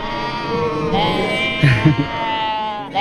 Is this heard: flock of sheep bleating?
yes